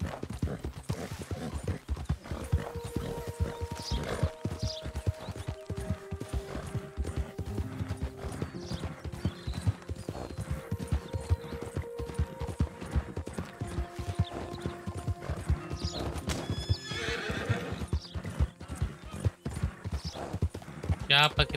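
Steady clip-clop of hooves from horse riding in the video game Red Dead Redemption 2, rhythmic and close, with a couple of whinnies and a player talking throughout.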